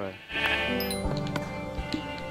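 Sheep bleat in the video game Minecraft, a short wavering cry over steady game background noise, with a voice talking alongside it.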